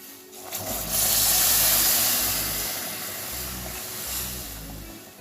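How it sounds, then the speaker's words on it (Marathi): Hot water is poured into sizzling egg curry masala in oil, a loud steady hiss and splashing rush that swells after a second and slowly eases, with no talking. "गरम पाणी ह्याच्यात टाकून घेऊ।"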